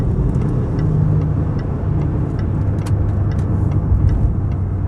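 A Range Rover Sport drives along during an overtake, its engine and road noise forming a loud, steady rumble heard from inside the cabin, with no voices.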